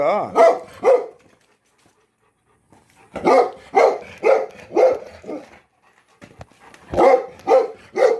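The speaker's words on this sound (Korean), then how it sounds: "늦은 시간에 짖지 말라니까." A dog barks at night in clustered bursts of sharp, loud barks close by, separated by a few seconds of quiet, with some whiny tones mixed in.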